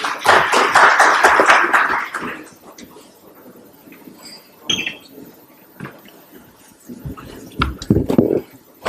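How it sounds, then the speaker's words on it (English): An audience at an AI and IoT international conference in India applauds to welcome a speaker, a dense burst of clapping for about two seconds that fades into scattered quiet sounds and a few later claps. "Please welcome him, everybody, with a round of applause."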